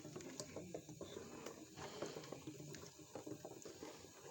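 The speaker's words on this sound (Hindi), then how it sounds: "अब मैं इसमें तकरीबन आधा पौना किलो पानी डालती हूँ।" Water runs steadily into butter in a pot while homemade desi ghee is made, a soft continuous splashing and trickling at low level.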